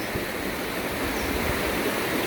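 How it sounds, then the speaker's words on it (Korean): Mountain valley stream water rushing steadily over rocks, a continuous close, full-bodied flowing and splashing wash with no voices. "야 계곡 물소리 한번 보시죠. 진짜 시원합니다."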